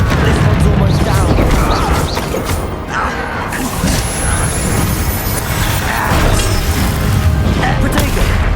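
Bombarda blasting spell explosions in Hogwarts Legacy, a dense, continuous barrage of booms and crashes that stays loud for over eight seconds, with scattered rumbling and debris-like clatter and no pauses.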